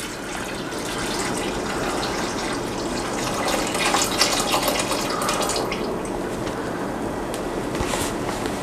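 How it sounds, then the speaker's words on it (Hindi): Milk is poured into a pot of soaked chana dal for a dal halwa, a steady liquid gush that runs continuously at close range with no talking over it. "तो अभी इसमें शामिल करूंगा मैं 1 लीटर दूध।"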